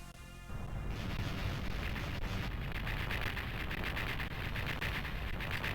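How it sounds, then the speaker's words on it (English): A video game explosion from Mischief Makers: a sharp onset followed by a loud, sustained, crackling roar that holds steady for several seconds with no voices. "That's the explosion sound from Mischief Makers."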